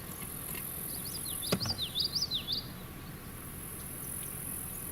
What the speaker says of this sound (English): Common yellowthroat we're hearing over here somewhere.